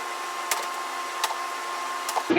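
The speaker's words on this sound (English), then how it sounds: "the humming of the freeze dryer is kind of loud" A freeze dryer's steady mechanical hum drones nearby without letup, with a few faint clicks and taps over it.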